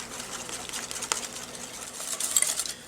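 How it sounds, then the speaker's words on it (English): Whisk working through a batter of eggs, flour and honey in a bowl, a light, uneven scraping and clinking with soft rhythmic taps, close and fairly quiet. "I'm going to whisk it together."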